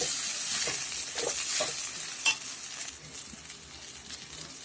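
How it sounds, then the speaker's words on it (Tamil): Vermicelli goes into a hot pan with softened onions and is stirred, giving a steady close sizzle broken by scraping strokes and a sharp clink of the utensil, fading slightly toward the end. "இப்போ நான் சேமியாவை ஆட் பண்ணலாம்."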